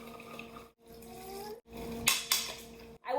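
Chopped onion, scallion and green pepper tossed together in a bowl, with a few close scraping and clinking bursts of spoon or utensil against the dish between short pauses.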